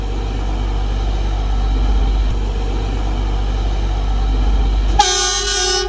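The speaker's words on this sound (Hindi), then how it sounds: "आपको ये दिखेगा कि ट्रेन जब जाएगा तो कैसा नज़ारा होगा" A freight train runs across the Dalelpur bridge on the Western Dedicated Freight Corridor, its steady low rumble and rail noise continuous throughout, joined near the end by a loud, sustained multi-tone horn blast.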